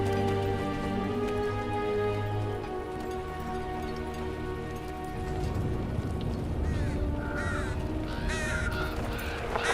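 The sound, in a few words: crow cawing sound effect in a video game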